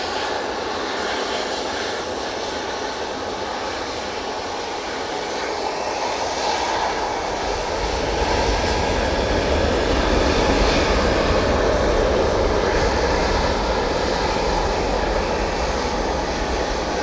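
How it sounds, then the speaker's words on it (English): An SAS Embraer airliner landing at Manchester Airport, a broad steady jet engine roar that swells louder about halfway through as it passes nearer, heard from outdoors at a distance. "The SAS Embraer landing."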